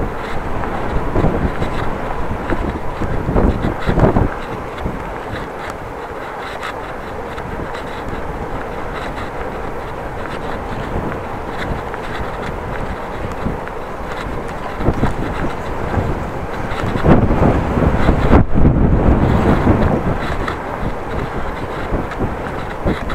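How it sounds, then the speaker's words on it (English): Wind buffeting a microphone on a bicycle ridden headlong into the wind, a loud broadband rumble and roar that swells and gusts throughout with no voices. "driving headlong in the wind. Facing the wind."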